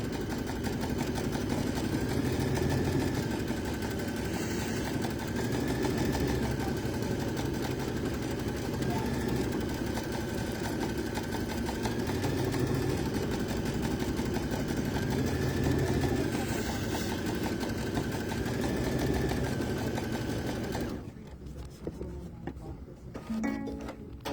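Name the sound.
sewing machine tacking down a coaster seam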